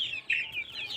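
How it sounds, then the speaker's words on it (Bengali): Young chicks peep and chirp in the morning, eager for water, in quick high calls at close range with no talking. "সকাল সকাল পানি খাওয়ার জন্য মুরগির বাচ্চারা কত উত্তেজনায় আছে।"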